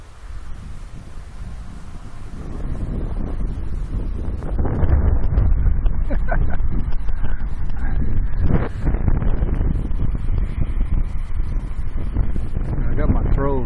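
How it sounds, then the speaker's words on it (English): Wind gusting across the microphone at an RC model airplane flying field on a day with 12 mph crosswinds, a loud continuous low roar that swells and buffets throughout, with faint voices beneath it. "it's 12 mile an hour crosswinds today"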